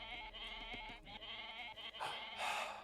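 Goats bleat in a video game base during a strategy match, several wavering bleats in a row at moderate volume over quiet game sounds.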